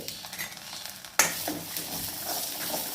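Onion and green chili, tossed in with cumin seeds and curry leaves, frying in a pan while being stirred. A sudden sizzle starts partway through and keeps on steadily, close by, with no talk.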